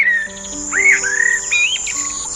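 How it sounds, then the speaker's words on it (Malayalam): Birds returning to roost at dusk give a few clear, close whistled calls and rising chirps in quick succession over a quiet background. "പക്ഷികൾ കൂടണയാൻ തിരിച്ചെത്തുന്ന സമയം."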